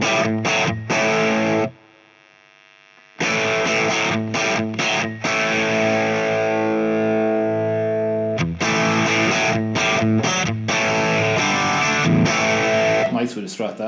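Electric guitar through a TC Electronic JIMS 800 pedal set to a scooped, vintage-style distorted tone, playing chords and riffs with a short silent pause, loud and close.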